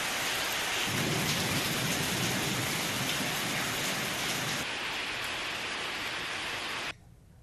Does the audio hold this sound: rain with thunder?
yes